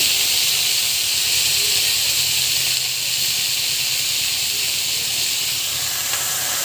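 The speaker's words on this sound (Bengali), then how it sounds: "তেলটা গরম হয়ে গেলে কেটে রাখা শাপলাগুলো এর মধ্যে দিয়ে দিলাম।" Cut water lily stems frying in hot mustard oil, giving a constant loud hissing sizzle with no breaks and no voices.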